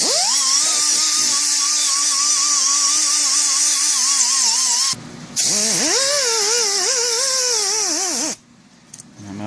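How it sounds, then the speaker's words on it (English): A small air-powered die grinder fitted with a sanding disc gives a loud, high whine that rises and dips as it loads against the work. It drops out briefly, restarts, then cuts off near the end. "I'm a big fan of these die grinders, little air powered die grinder."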